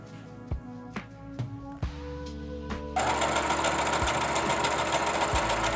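Several short taps and knocks give way to a sewing machine stitching a thin dress fabric, taking in the back of the waist. The motor starts midway and runs in a steady, loud whir with no talking.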